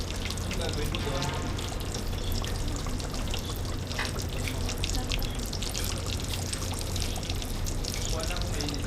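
Hot water pours in a dense, continuous rush that lasts throughout, close and fairly loud, with a faint frying-like crackle mixed in.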